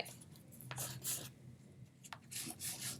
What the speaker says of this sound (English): Press down really nice and hard because crayons can be too light if you don't press enough